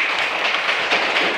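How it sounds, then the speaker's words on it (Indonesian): Children clap their hands together in a classroom, a brief, dense, steady wash of many overlapping claps heard close and fairly loud. "Pintar semua, tepuk tangan."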